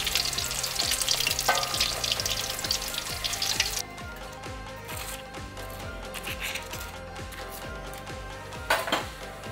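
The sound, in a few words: Pacific saury deep-frying in oil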